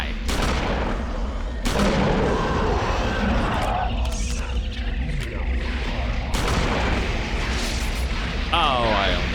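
A shotgun fires in the video game Eternal Darkness: Sanity's Requiem, heavy booming blasts at irregular intervals over a dense, loud game soundscape with a player talking throughout.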